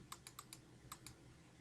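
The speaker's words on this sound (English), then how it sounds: "You can tell I'm clicking on it." A computer mouse clicks six times in quick, light taps, close and quiet, in two small bursts with a short pause between.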